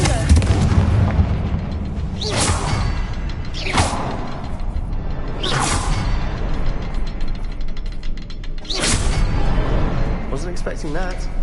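Blasting-spell explosions in the Hogwarts Legacy video game on PS5 burst out as several loud, sharp cracks over a dense, continuous rumbling game soundscape, spaced a couple of seconds apart.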